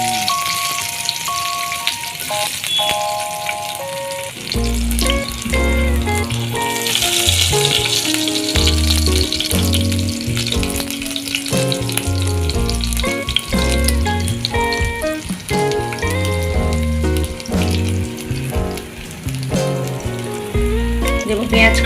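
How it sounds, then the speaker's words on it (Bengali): Whole garlic, ginger and spices fry in hot oil for a mutton paneer kofta curry, a steady crackling sizzle throughout under loud background music, with sharper spitting bursts as ingredients hit the pan. "ভালো করে এগুলোকে ভাজবো।"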